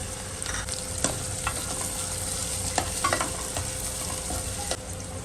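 Tomatoes and sprouted mung beans cooking with onion in a pan, a steady close sizzle and frying hiss with scattered scraping stir clicks throughout, no talking.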